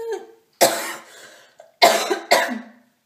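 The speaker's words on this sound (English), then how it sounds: "Sorry about that, I just coughed." A person coughs, first a single loud cough, then a pair of sharp coughs close together a moment later, recorded nearby with no talking.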